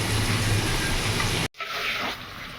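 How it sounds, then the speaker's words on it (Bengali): Potatoes deep-frying in oil over a high gas flame give a loud, steady broadband hiss and crackle that cuts off sharply partway through, then resumes more softly. "গ্যাসের ফ্লেমটা আমি হাই রাখলাম এবার আলুটা আমি লাল লাল করে ভেজে নেব"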